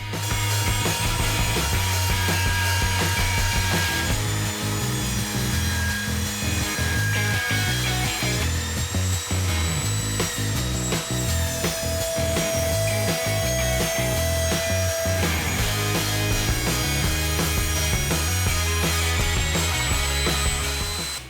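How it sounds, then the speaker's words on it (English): A power saw cuts steadily through a 2x4 wood board, a continuous loud grinding whine with shifting pitch and no pauses. "saw to take about 1 centimeter of the 2x4 thickness"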